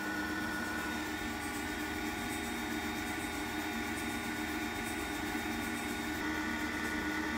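An electric mixer whirs steadily at low speed setting 1 for a quiche batter, giving a continuous mechanical hum with a faint rattle throughout, no voices.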